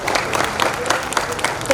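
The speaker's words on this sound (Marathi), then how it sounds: "त्यांच्यासाठी एकदा जोरदार टाळ्या" An audience at an award ceremony claps briefly and densely, a quick patter of many hands filling the hall.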